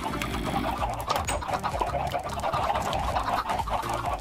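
Minecraft chickens cluck and coo repeatedly in the video game, over a dense, busy background. The bird calls sit at moderate loudness, and no one talks.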